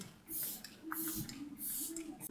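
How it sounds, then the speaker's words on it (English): Several short, close hissing spritzes of an Hourglass setting spray bottle sprayed onto a face, spaced about half a second apart, quiet and airy. "I'm going to set everything with the setting, hourglass setting spray"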